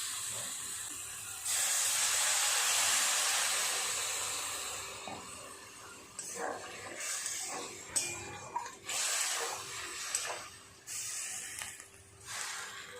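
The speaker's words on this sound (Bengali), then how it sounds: "এবার জল দিয়ে দেব।" Water poured into a pan of frying spiced mushrooms bursts into a loud, sustained hiss and sizzle up close, then settles into intermittent crackling and bubbling with softer pauses.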